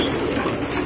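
Pigeons in a large loft, a continuous close wash of cooing and fluttering with no talk.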